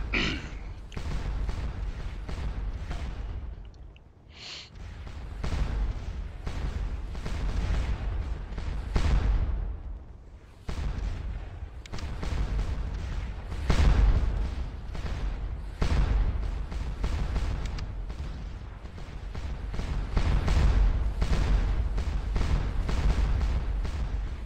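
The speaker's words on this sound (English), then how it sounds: "They've been firing their guns for hours now, and they're still keeping up a really good rate of fire." Artillery batteries fire again and again at the Battle of Mont St. Jean in the game Scourge of War: Waterloo, with heavy booms and rumbling blasts coming in quick, irregular succession, loud and close throughout.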